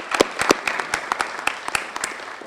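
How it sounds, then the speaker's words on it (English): A small audience at a congressional veteran commendation ceremony in Florida gives a round of applause, with sparse, distinct hand claps spread unevenly across the moment rather than a dense roar. "Let's give him a round of applause"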